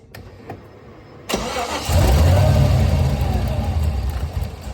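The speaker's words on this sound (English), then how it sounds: "Let me start the car." Chevrolet Nova engine cranking and catching after a few quiet faint knocks, then settling into a loud, close, rough-running idle.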